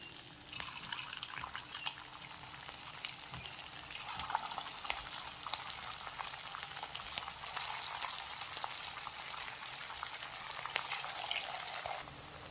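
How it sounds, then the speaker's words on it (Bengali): Bitter gourd chops sizzle in hot oil in a pan, a steady, dense crackling hiss with scattered sharp pops, close and fairly loud throughout. "তেলটা গরম হয়ে গেছে, গরম তেলের মধ্যে দিয়ে দিচ্ছি"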